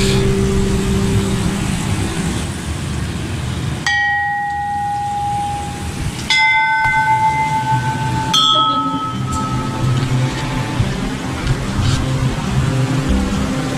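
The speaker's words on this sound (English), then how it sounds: "Some good bell ringing." Church bells ring out in Funchal, Madeira, in a series of clear, sustained tones with long decays, struck several times over steady outdoor background noise.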